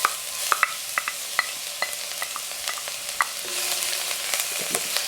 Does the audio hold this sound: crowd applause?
no